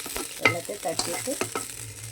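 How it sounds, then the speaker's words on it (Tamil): A short bout of stirring payasam in a pot, with scraping and clinking of a spoon mixed with a soft sizzle in the background. "ஒரு கிளறு கிளறுனா பாயசம் ரெடி."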